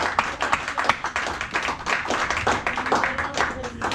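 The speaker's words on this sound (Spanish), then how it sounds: "Un aplauso fuerte para el Señor Jesucristo." A congregation at a church vigil bursts into loud, vigorous applause, dense rapid hand claps filling the room continuously, with voices mixed in under the clapping.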